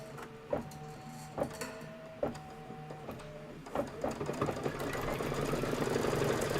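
A Kimberbell embroidery sewing machine quilting a project runs with a steady mechanical hum and a rhythmic knocking stitch, close by and moderately loud, growing busier toward the end.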